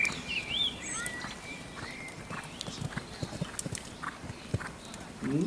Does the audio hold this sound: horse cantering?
yes